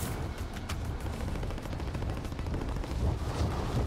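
Distant bursts of gunfire in Call of Duty: Warzone crackle repeatedly against a low rumbling background, fairly faint and irregular in rhythm.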